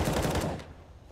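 Rapid automatic gunfire from CS:GO on the Overpass map, fired through smoke in a pro match: a dense, fast burst of shots lasting about half a second, then quickly fading out.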